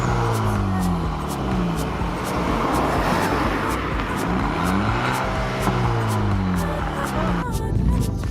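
A turbocharged Ford engine revs up and down loudly from inside the car, rising and falling in pitch, with crackling pops breaking through.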